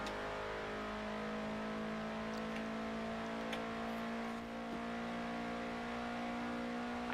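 Car engine in GTA V racing gameplay, a steady droning hum with engine tones, fairly faint and continuous, with no talking.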